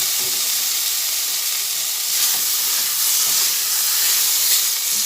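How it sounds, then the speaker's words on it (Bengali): Eggplant, tomato and bitter gourd frying together in a pan, a loud, continuous hissing sizzle close up that swells slightly partway through, with no voices. "বেগুন আর টমেটো একসঙ্গে ভালো করে ভেজে নিচ্ছি"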